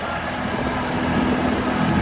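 A New Holland 5620 CRDI 45 HP tractor runs through a deeply ploughed field, its engine giving a continuous loud, rough drone with steady broadband noise and no pauses or voices.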